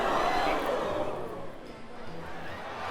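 A circus crowd murmurs and exclaims in broad, steady oohs and ahs, a dense wash of many voices close and continuous throughout, with no single speaker standing out.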